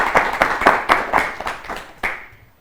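Schoolchildren in a classroom give a short burst of applause for a classmate, several quick uneven claps trailing off within a few seconds.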